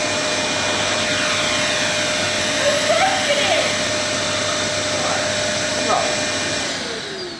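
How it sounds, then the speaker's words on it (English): A vacuum cleaner hoovering in a home runs as a loud, steady whine throughout, with faint voices and small bumps buried under the motor noise. "You've had a week without hoovering and you've completely forgotten how to do it."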